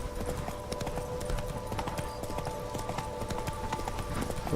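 Roach, the horse in The Witcher 3, trots with steady rhythmic hoof clip-clops over a constant game ambience, close and moderately loud throughout.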